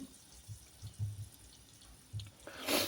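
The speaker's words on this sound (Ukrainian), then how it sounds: "А це потихоньку у нас булькає. Буль-буль-буль-буль-буль." A pot of homemade soup with potatoes bubbles quietly on the stove, giving soft, sparse low blips at an uneven pace before a brief louder burst at the end.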